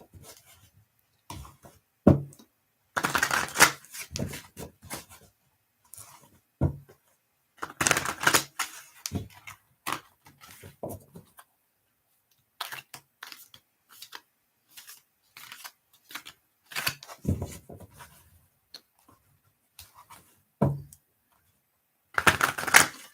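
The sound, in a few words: shuffling tarot cards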